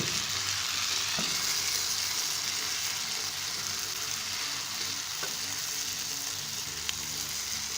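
Chopped tomatoes fry with onions and cooked potatoes for an Afghani omelette, giving a constant close sizzle with a few faint stirring clicks, steady throughout and free of talk.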